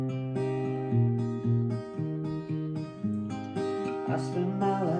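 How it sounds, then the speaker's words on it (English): Acoustic guitar plays the verse of the song, steady strummed chords with a clear bass line, close and even in level, with no voices. "And the verse is going to sound like this."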